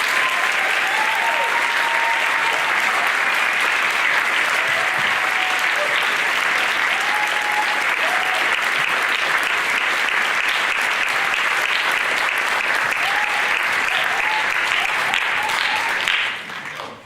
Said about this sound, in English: Can we please give our senior class 2022 a round of applause?